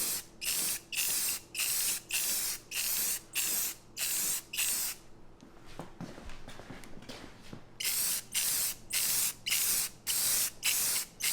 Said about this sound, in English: I'm probably gonna do, I'd say 3 to 4 nice coats of clear on the winch.